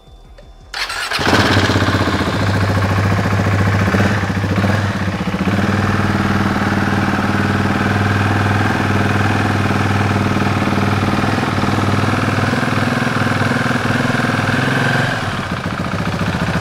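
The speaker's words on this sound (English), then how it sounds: "As soon as we start the engine up, it should drop down a little bit." A Husqvarna 701 motorcycle engine catches after about a second and settles into a steady, loud idle that holds alone for the rest of the clip, close to the listener.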